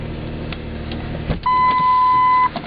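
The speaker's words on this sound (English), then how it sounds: "after it starts up, you're going to want to leave your car on" A car engine idles steadily after a jump start, a close low rumble that is joined midway by a sustained electronic tone lasting about a second before the engine hum continues alone.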